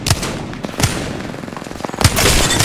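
Gunfire in a video game shootout: several sharp, loud shots spaced out over a couple of seconds, ending in a denser burst, with no talking.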